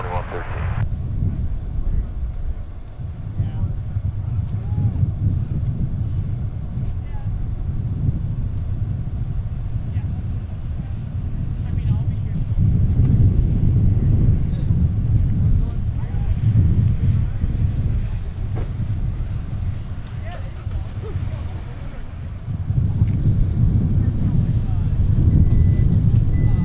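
A Delta Airbus jet taxiing out from gate G10 at Minneapolis–Saint Paul airport hums with a low engine drone that swells and ebbs, while voices talk over it.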